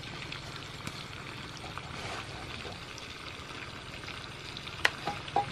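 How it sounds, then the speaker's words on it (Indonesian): Rice boils in a pot at a garden hut kitchen, a continuous bubbling, sizzling wash with a few sharp clinks near the end. "udah mendidih nasinya"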